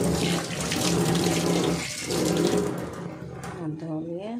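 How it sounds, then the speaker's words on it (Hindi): Running tap water splashes steadily as hands are washed under it, with a continuous rushing flow that eases off near the end while a voice talks over it. "हमने हाथ धो लिया।"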